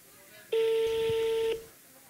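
A single steady telephone dial tone sounds for about a second at a concert, a clean held electronic tone standing out over low hall noise.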